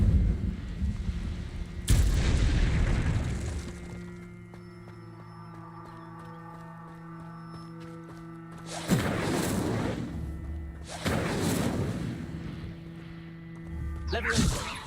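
A fiery spell cast in Hogwarts Legacy, heard as sharp whooshing bursts of flame at a few points, each swelling then fading, over a sustained low musical drone.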